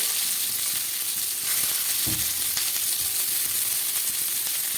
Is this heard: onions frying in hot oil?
yes